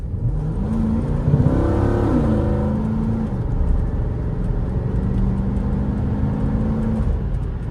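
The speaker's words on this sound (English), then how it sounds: "Being able to drive a naturally aspirated V8 and hearing the valves just open up" A Porsche's naturally aspirated V8 accelerates under load, its rising engine note climbing steadily and then holding as a loud, continuous drone close by, with no talking.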